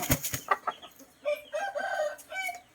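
A handsome rooster about seven months old crows once in a long, loud, drawn-out call, preceded by a few short clucks, with no talking.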